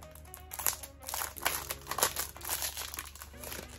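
An eyelash extension tray is pulled from its plastic packaging, with close, busy crinkling and crackling of the wrapper in irregular bursts throughout, while a voice talks quietly underneath.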